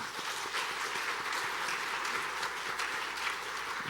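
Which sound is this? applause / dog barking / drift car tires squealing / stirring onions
applause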